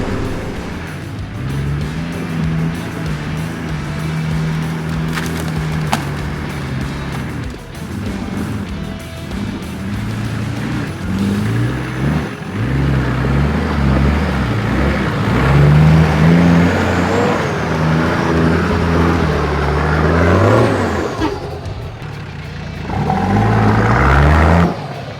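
A 4WD vehicle grinds over a rocky staircase obstacle on a wet forest track in Toolangi State Forest near Melbourne, its engine droning steadily and revving up harder in bursts, close and loud throughout.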